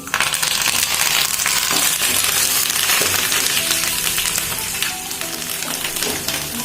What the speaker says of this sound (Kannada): ಸ್ವಲ್ಪ ಫ್ರೈ ಆದ್ಮೇಲೆ ಕರ್ಬೇವಿನ ಸೊಪ್ಪು ಮತ್ತೆ ಒಣಮೆಣಸಿನ್ಕಾಯಿ ಹಾಕೊಳ್ಳಿ.